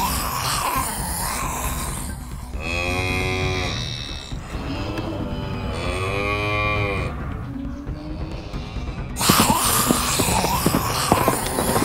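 A cow moos twice in long, drawn-out calls, close and clear, set in a farm diorama scene with a steady bed of background sound around it.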